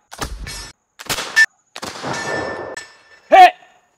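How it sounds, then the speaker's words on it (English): An antique Model 1816 flintlock musket fires during a reenactment, one sharp loud report near the end, after shouted commands and other voices heard earlier. "Make ready, take aim, fire!"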